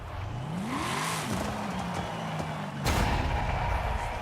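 A car in Forza Horizon 5 online racing, its engine revving up in a rising pitch sweep then holding a steady drone, with a sudden louder surge of engine and tire noise near the end.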